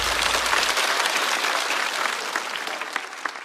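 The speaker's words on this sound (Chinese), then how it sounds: "再次掌声送给张慧。" A studio audience at a stand-up comedy show claps steadily, dense continuous applause that gradually thins toward the end.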